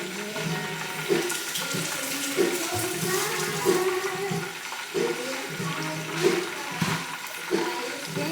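Fish being washed for Jamaican escovitch fried fish under a steadily running tap, with continuous splashing water and repeated knocks as the fish are handled in the sink.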